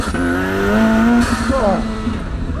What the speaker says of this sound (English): Let's do a flat shift. First gear.